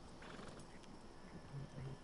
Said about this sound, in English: he's copying my saddle and horse. That's a Missouri Fox Trotter.